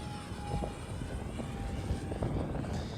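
A 50mm electric ducted fan RC jet on a 4S battery whines steadily at throttle, a thin, continuous high-pitched hiss and hum that holds fairly even and somewhat distant throughout, with no talking.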